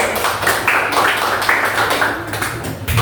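Children clap for a classmate at school: soft, uneven clapping from a small group, close by and fairly continuous, with faint voices underneath.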